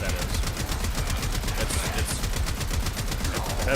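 Rapid automatic fire from a Trumna weapon modified into a laser in a video game, a dense, continuous stream of shots at steady volume throughout, with no talk.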